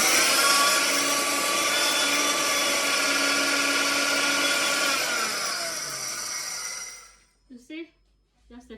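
An electric kitchen grain grinder whirs loudly and steadily for several seconds, then spins down and stops, followed by a few brief clicks and soft handling noises.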